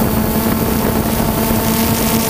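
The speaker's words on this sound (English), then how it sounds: "it's very windy." Loud, constant roaring wind buffets the microphone, with a steady motor-like hum underneath from drones in flight.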